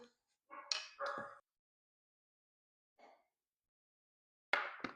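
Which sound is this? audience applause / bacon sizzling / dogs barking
dogs barking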